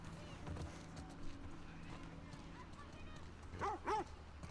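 Dogs in The Last of Us Part II give a couple of short barks near the end, over quiet game ambience with low background noise and soft dialogue.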